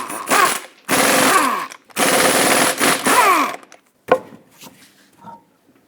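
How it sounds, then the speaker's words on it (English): An impact wrench with a 21mm socket rattles loose the lug nuts on a 2005-2010 Chrysler 300 wheel, three loud, close, hammering bursts followed by a few lighter clanks of metal. "Use a 21mm socket and remove all 5 lug nuts and then remove the wheel."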